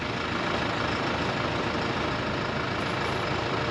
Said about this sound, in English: we're gonna go with this TrackSkidSteer here first